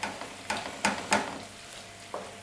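Onions and tomatoes in olive oil sizzle quietly in a pan, with several sharp stirring scrapes in a loose rhythm over a soft, steady fry.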